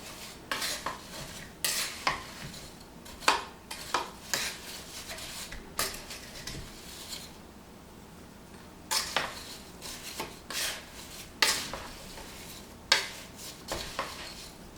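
Apple slices for a pie filling are stirred and coated in a bowl, with repeated soft scraping and clinking strokes of a utensil in an uneven rhythm and a short pause midway. The sound is quiet and close.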